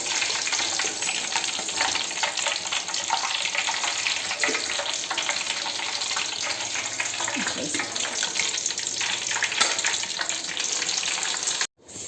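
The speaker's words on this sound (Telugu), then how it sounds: "ముక్కలంతా ఇట్లా కాల్చుకోవాలి." Chicken pieces for Arabic-style mandi biryani roast in a hot pan, giving a steady loud sizzle with crackling that runs unbroken for about twelve seconds and cuts out briefly near the end.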